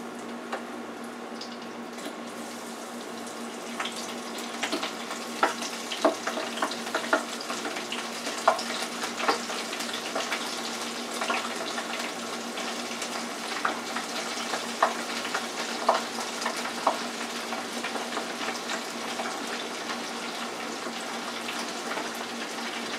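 Shrimp and vegetable tempura deep frying in hot oil, a steady close sizzle with scattered pops and crackles throughout.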